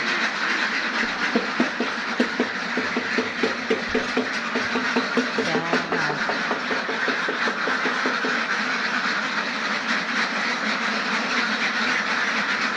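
A flock of ducks quacks continuously in rapid overlapping bursts, loud and close, with a steady background hum and no talking.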